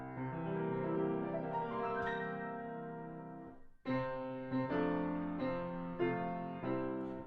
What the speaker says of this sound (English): playing the arpeggio that usually signals that we're about to sing Happy Birthday